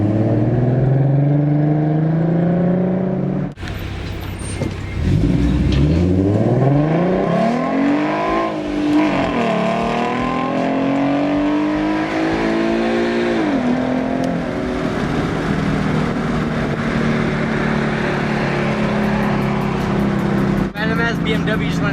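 A bolt-on V6 Mustang races a 5.0 on the street, its engine revving hard and sweeping up and down through the gears, loud and close, with people talking over the engine noise.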